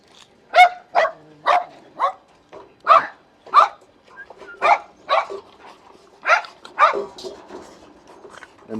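Labrador puppies in a kennel with open cages and mats bark nearby, about a dozen sharp yaps in an uneven rhythm with short gaps between them.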